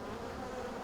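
Honeybees at a hive full of drones, a dense steady buzzing drone, close and continuous for under a second.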